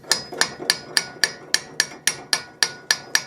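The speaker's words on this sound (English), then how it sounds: "Then I'm going to take my hammer." Twelve sharp, evenly spaced metallic hammer taps, close and loud, driving a nut remover socket onto a rounded lug nut on a Lincoln Town Car during a brake job, each strike ringing briefly before the next.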